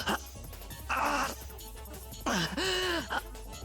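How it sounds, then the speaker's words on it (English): A wounded character in the Fate/Stay Night game pants in pain, with two strained, groaning breaths a second or so apart, close and fairly loud against a low background hum. "That's some nice hurt panting."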